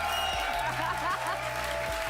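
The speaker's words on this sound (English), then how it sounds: "can I get a huge round of applause for Rod Ferguson and Ryan Cleveland" Live audience applause at the Xbox Gamescom 2019 presentation on Inside Xbox, a steady broadband wash of clapping that runs the full length with cheering voices and some talk mixed in.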